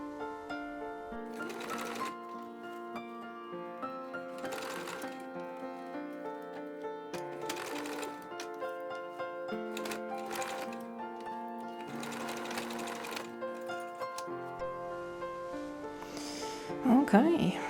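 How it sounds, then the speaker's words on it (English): Sewing machine stitching elastic on homemade sweatpants, running in short repeated bursts of rapid whirring with pauses between, under music and a nearby voice. "I will sew a little rectangle here on top to keep these two pieces of elastic together"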